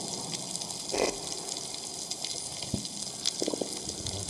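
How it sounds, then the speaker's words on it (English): Underwater coral reef soundscape with crackles, pops and clicks from fish and shrimp, scattered bursts over a steady hiss of water, no voices. "This is the sound of Coral Reef."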